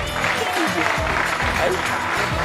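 Applause from a football match crowd, loud and continuous dense clapping with shouting voices mixed in throughout.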